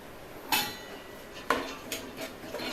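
Vegetables being stirred in a pan over full flame for Schezwan fried rice, with onion, carrot and beans: a few sharp metallic scrapes and clinks of a utensil against the pan, spaced apart, near and moderately loud, with no talk.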